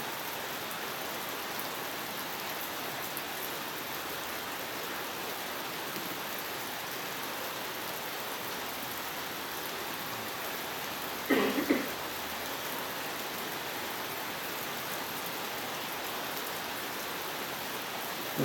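Steady rain falls throughout at an outdoor festival gathering, a constant even hiss with a brief louder patter or bump partway through; no talk is heard.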